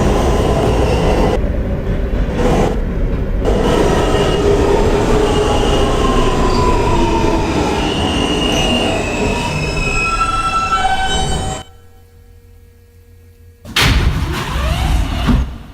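A Manhattan-bound New York subway F local train on the Culver line runs loudly up close, a rumbling roar with high metallic wheel squeals sliding across the track, then a sudden drop to near quiet before the noise returns.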